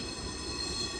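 A rail vehicle rolls along the tracks on a frosty street in Riga, giving a steady, close rumble with a thin metallic wheel squeal running through it, and no voices.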